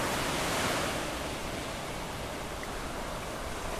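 Surf rolling onto the beach at Branksome Chine, a steady broadband wash of breaking waves, even and unbroken throughout with no voices.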